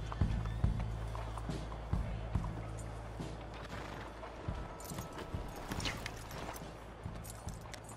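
Horse hooves clopping in a video game as riders hitch up, irregular thumps and clatter over a low ambient hum, with scattered louder knocks and a spoken voice at moments.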